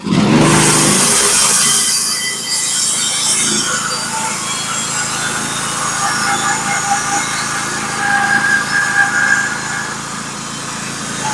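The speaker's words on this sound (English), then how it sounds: "The noise that you're hearing from the sawmill right now and the band itself is from the noise canceling on the microphones." Norwood HD36v2 band sawmill slicing a large wood cookie, a steady loud whine of engine and blade grinding through the log throughout, dulled and uneven as if filtered by noise cancelling.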